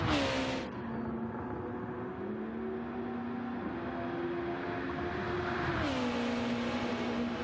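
Race car engine in Gran Turismo 7 revving hard and holding steady high-pitched harmonics near the top of the rev range, with a brief dip and pitch shift as it shifts, loud and continuous throughout.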